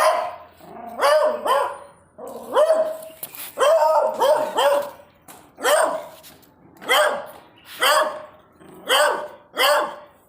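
Several male puppies barking in repeated sharp yelps and bow-wows, close by, in an irregular run of about a dozen barks with brief pauses between.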